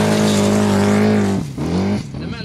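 Modified Formula Offroad car racing on a track at Mysen, Norway, its loud high-revving engine holding a strained tone, then dropping off with abrupt gear changes and revs rising again, close by.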